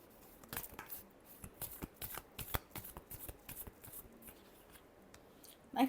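Tarot cards are riffled and shuffled by hand in a quiet room, giving irregular crisp flutters and taps that build in short bursts, close up and fairly soft, with no one speaking.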